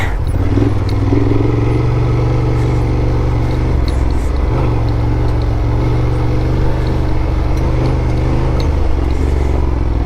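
A Honda Transalp motorcycle rides off-road along a trail wash in Idaho, its engine giving a steady, close, rumbling drone with rattling clatter throughout and no talking.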